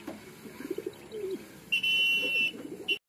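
Pigeons coo softly in low, throaty bursts at close range, with a brief higher-pitched tone cutting across partway through.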